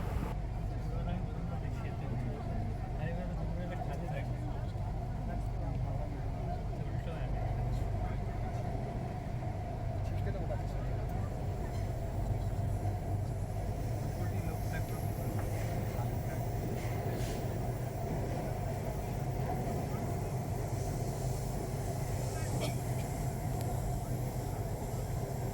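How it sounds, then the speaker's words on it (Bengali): Metro train on the East-West line in Kolkata running underground between Esplanade and Howrah, a steady low rumble and hum throughout with speech over it. "কথা বলতে বলতে আমাদের ট্রেন ছেড়ে দিল তার নির্দিষ্ট সময়"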